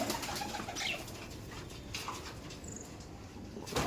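A Kaldom pigeon in a loft, with soft coos and brief flutters over a steady background hiss, faint and close, with no talk.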